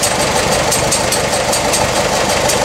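A utility tractor's roughly 35-horsepower engine idles loud and close, a steady unbroken mechanical rumble with a faint knocking rhythm throughout.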